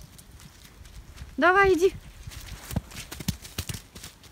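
A horse moves about on a farm with hoof clip-clops and shuffling steps, close by, while a person speaks to it briefly over the sounds.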